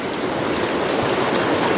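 Glacier Creek, a mountain stream near Leadville, Colorado, rushes steadily in a loud, close, unbroken wash of flowing water with no voices.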